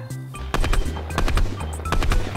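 Rapid gunfire in Fortnite, a fast burst of loud, close shots in an irregular rattling rhythm over a steady low game hum.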